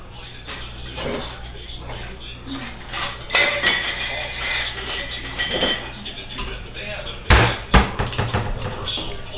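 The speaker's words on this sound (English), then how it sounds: "Let me get us a jar over here and a lid." A glass jar and its lid are handled on a kitchen counter, giving irregular clinks and knocks with a few sharper taps, while a person talks in between.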